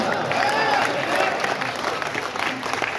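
Steady applause from an audience at a Bundeli poetry recital in Bhopal, a dense continuous wash of clapping throughout, fairly loud and near, with some crowd murmur mixed in.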